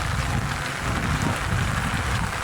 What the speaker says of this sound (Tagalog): Kada gabi na lang umuulan po dito sa GMA Cavite.